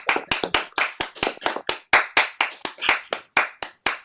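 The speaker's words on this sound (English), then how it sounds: "a final round of applause for all of the artists" Close, steady clapping from a small concert audience giving a final round of applause to the artists at a Beethoven 250th birthday concert, distinct rhythmic claps at an even pace.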